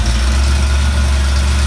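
A loud, rumbling Jeep CJ7 engine idles close by with a rough, raspy roar from a hole in the exhaust, continuous and unbroken.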